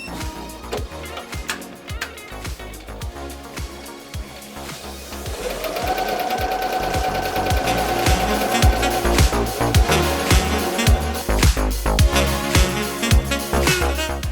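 An embroidery machine running in fully automatic mode stitches a patch design, producing a fast, steady mechanical chatter of needle strokes that grows denser and louder midway, with a whirring tone underneath and no talking.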